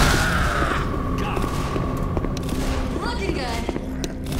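Rapid gunfire in the video game Dark Wood, dense overlapping shots and booms crackling steadily throughout, with voices mixed in.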